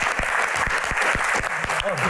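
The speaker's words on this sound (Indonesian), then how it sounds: "Tepuk tangan sekali lagi teman-teman" Audience applause at a live Q&A event as guests are welcomed on stage, dense steady clapping with sharper individual claps, and a voice talking briefly over it.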